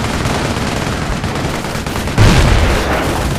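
Dense, continuous gunfire from a Company of Heroes battle, a loud unbroken rattle of machine guns with a heavier burst swelling in after two seconds.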